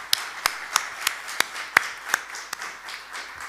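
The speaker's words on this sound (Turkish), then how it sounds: "Arkasından da bu şahane ekip için kocaman bir alkış alarak." Sparse, separate hand claps at a festival interview session, about nine sharp claps at a steady slow pace over a quiet background, more like one or two people clapping than a full audience.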